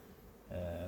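Honey bees, queen and worker bees, buzz at a hive in an apiary as a steady droning hum swells in suddenly and holds close and loud after a quiet start.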